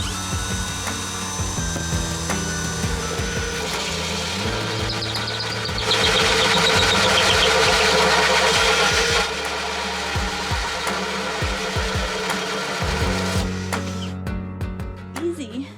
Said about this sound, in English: If I drill right here, I know it's gonna be okay.